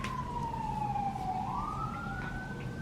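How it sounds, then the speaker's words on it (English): A wailing siren outside a hospital room, its pitch sliding slowly down then rising again, heard at a distance over a low traffic rumble. "Our room, you can really hear the sirens."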